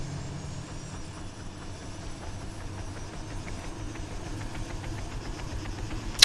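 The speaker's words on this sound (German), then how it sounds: "versuche mal einen kleinen Rundflug in diesem UH-80 Ghost Hawk Helikopter" Military UH-80 Ghost Hawk helicopter from the game Arma 3 in flight over an airfield, a steady, continuous low engine and rotor drone with a faint high whine, holding level throughout with no voices.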